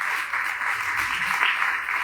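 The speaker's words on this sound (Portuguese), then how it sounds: "Uma salva de palmas para ela, gente." Audience applause at a motivational talk on emotions, a steady broad wash of clapping sustained throughout, moderately loud with no pause.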